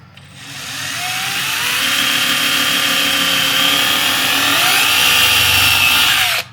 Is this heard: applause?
no